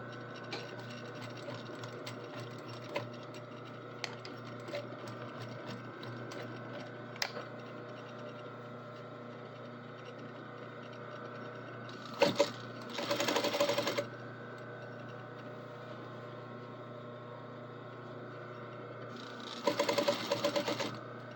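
A sewing machine back stitches a mini kilt waistband at half an inch: a steady low motor hum with faint ticking runs throughout, rising into louder bursts of stitching near the middle and again at the end.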